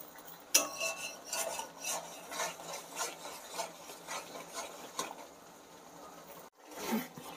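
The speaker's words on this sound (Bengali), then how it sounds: "দিয়ে এবার ভালো করে মশলাটা কষি।" Spices with turmeric and salt being stirred and sautéed in a pan, rhythmic scraping strokes of a spatula against the metal with a light sizzle, close and clear, with no talking.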